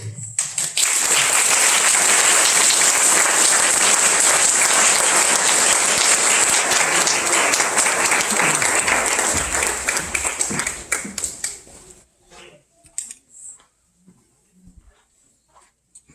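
Sustained audience applause at a celebration of life gathering, a loud dense wash of clapping lasting about eleven seconds before cutting off abruptly into a few faint sounds.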